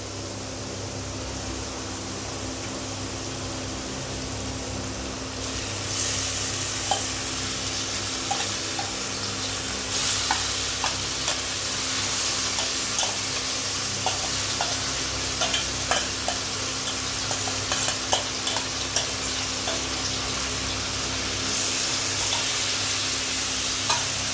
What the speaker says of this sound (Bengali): ভালো করে নেড়ে নেবো একটু।